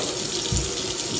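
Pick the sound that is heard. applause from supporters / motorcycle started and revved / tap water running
tap water running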